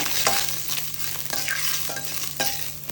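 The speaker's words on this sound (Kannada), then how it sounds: "ಜಜ್ಜಿರೋ ಅಂಥ ಬೆಳ್ಳುಳ್ಳಿ ಫ್ರೈ ಮಾಡಿ" Crushed garlic fries in hot oil with mustard seeds and cumin for a tempering, crackling and sizzling up close while a spoon stirs and scrapes the pan in several short strokes.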